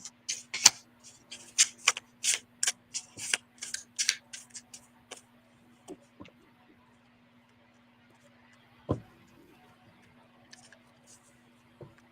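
Tarot cards are shuffled in a quick series of crisp riffles and flicks over the first five seconds, close by, then only a few scattered soft taps in a quiet room.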